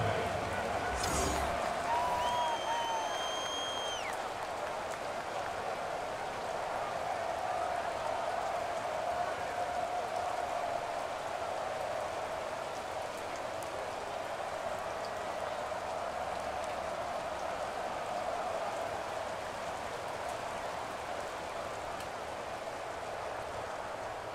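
Steady rain hiss in a Madden NFL football video game, a constant dense wash throughout, with a commentator's voice over it and brief whistle-like tones near the start.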